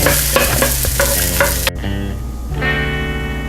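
Diced yellow onion frying in olive oil and butter in a pan, a steady loud sizzle with stirring scrapes, a brief dip midway before the frying hiss resumes alone, no voices.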